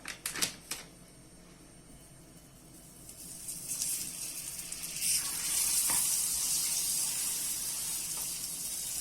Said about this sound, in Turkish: Tamamen eridikten sonra üzerine 1 yemek kaşığı kadar tereyağını alıyorum.